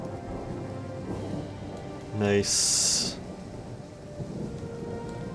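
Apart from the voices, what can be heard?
thunderstorm with rain in the video game Total War: Three Kingdoms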